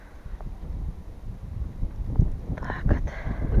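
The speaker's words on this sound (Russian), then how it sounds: "Ветер у нас ужасный." Strong wind blowing through a vegetable garden on a cold day, a steady gusty rush with bursts of buffeting against the microphone that swell louder toward the end.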